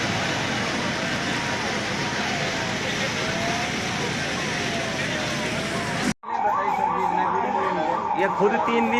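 Ambulance siren at a borewell rescue site, a loud, continuous wailing tone sweeping up and down, briefly cut off and resuming with crowd noise and voices around it.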